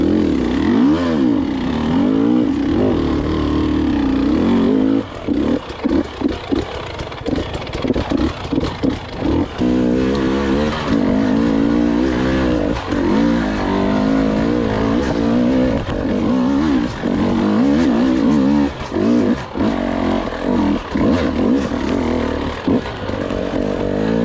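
Small Grom motorcycle engine revving loudly and unevenly up close, with sputtering bursts and rising and falling pitch over a steady mechanical drone.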